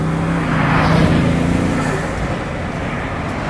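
A Bugatti Grand Sport Vitesse's 1183-horsepower engine drones steadily on the open road, a loud continuous rumble with a low tone that eases slightly toward the end, no voices present.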